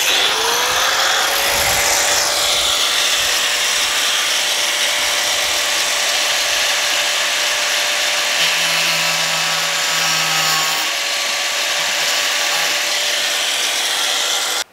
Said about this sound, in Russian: Это можно сделать спокойно болгаркой.